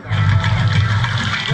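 Water poured in a steady, heavy gush during a comedy stage play, loud and continuous for the whole moment with no pauses and no talk over it.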